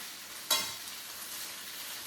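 Pre-seasoned fries, coated in garlic, onion and pepper, sizzle steadily in a pan, with one short scrape of stirring near the start before the frying hiss carries on alone.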